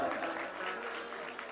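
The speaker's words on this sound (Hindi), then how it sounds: "फिर दीदी लोग के लिए एक बार ताली बजाओ।" An audience claps in applause during a Ramayana recital gathering, a steady, dense wash of many hands sustained throughout the short moment, fairly close and moderately loud.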